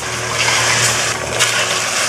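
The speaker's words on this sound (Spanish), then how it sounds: "Voy a agregar unas tacitas de agua." Cups of water pour into a cooking pot of Argentine chicken stew, a steady close splashing rush lasting a couple of seconds.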